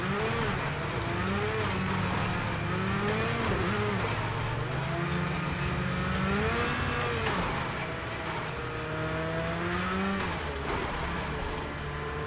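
A race car in Project Cars 2 revs and slides, its engine note rising and falling in wavering sweeps with tire squeal mixed in, quiet and continuous throughout.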